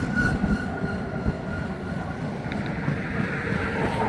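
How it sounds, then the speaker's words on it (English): A train slows down with rumbling rail noise, and the cars clank together as slack runs in, a steady low roar carrying faint metallic knocks throughout. "As the locomotive throttles down, the rest of the train slams together."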